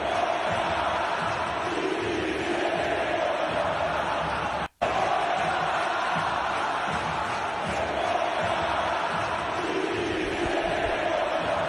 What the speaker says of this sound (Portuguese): os protestos que a torcida direcionou à equipe do Flamengo